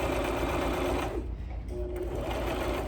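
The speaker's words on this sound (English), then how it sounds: "Sewing all the way down the length." A sewing machine stitches down the length of a fabric face mask, a fast steady mechanical whir that briefly slows and lightens midway before resuming, close and alone.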